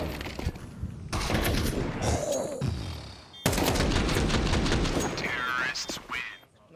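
Rapid bursts of AK rifle gunfire during a Counter-Strike match, sharp cracking volleys coming close together in two dense stretches, with a commentator's excited voice running underneath.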